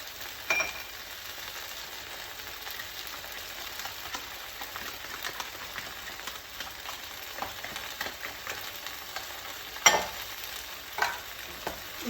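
Okra cooks in tomato concentrate with a low, soft simmering sizzle, joined by scattered spoon clicks and scrapes against the pot, including one sharper knock near the end. No voices.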